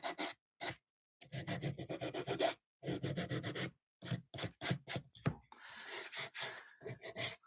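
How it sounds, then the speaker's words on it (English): Light hand sanding along the edges of a wooden piece, rounding them before painting; repeated short rasping strokes in bursts with brief pauses, close and fairly quiet, with no talking. "I just want to get kind of our preliminary sanding done here. It's more of a light sanding."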